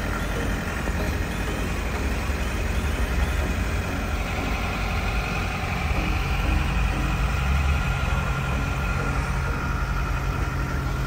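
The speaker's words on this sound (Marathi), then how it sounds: "ट्रॅफिक" Road traffic on the way to Kashmir, with idling truck, bus and car engines rumbling low and steady throughout, a continuous dense drone with no voices.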